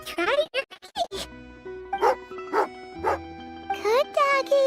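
A dog barks in the video game Genshin Impact, giving several short, bright barks and yips amid game sounds, while voices speak alongside.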